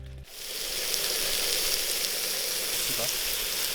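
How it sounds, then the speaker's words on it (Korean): Frozen pork belly sizzles steadily on a hot outdoor grill, a loud, even hiss like heavy rain that starts abruptly and carries on without a break. "삼겹살 굽는 소리가 마치 소나기 오는 소리 같더라고요."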